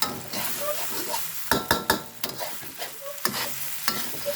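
Pork fried rice of jasmine rice being stir-fried in a pan, a steady sizzle broken by sharp scrapes and clanks of a spatula against the pan in irregular bursts, close by.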